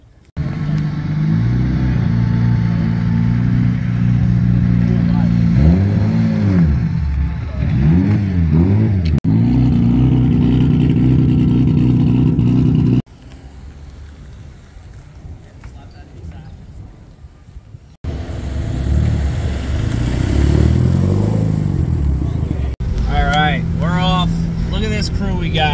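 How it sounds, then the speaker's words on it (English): Several tuned cars, a Nissan R34, a Stagea, a new Supra and an LS-swapped RX7, drive in convoy on the way to a car meet, their engines droning and rising with revs close by while people talk over them. "We got the R34 all the way out in front. We got the Stagia second, the new Supra."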